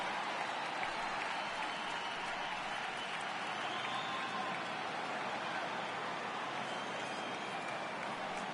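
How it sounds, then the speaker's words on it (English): Steady, dense roar of a home crowd at a baseball stadium in a video game matchup between the 2017 Houston Astros and 1917 Chicago White Sox, a continuous restless murmur with scattered applause-like texture filling the whole stretch. "Well, the home crowd seems a little restless"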